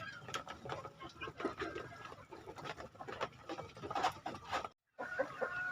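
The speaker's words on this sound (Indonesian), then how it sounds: "Nah, kita akan lihat ke ayam-ayam." Chickens in a coop at a small poultry farm: frequent soft clucks and short calls from several birds, fairly faint and close, broken by one brief gap of silence near the end.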